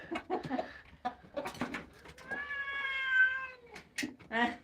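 A cat gives a drawn-out meow among soft clucking from chickens being fed leftovers, with short bursts of nearby clatter and movement around it.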